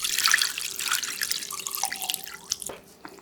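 Water with a spoonful of flour stirred in pours into a pot in the kitchen, a steady splashing stream with small drips and a gurgling rise near the end.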